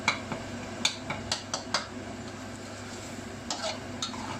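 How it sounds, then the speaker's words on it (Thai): Red curry paste stir-fries in a pan for Thai green curry, giving a soft background sizzle broken by a series of light scraping and clinking strokes from a spatula against the pan. "ผัดพริกแกงให้หอมๆ"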